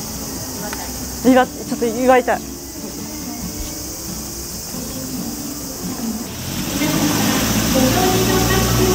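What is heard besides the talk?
cicadas chirping in summer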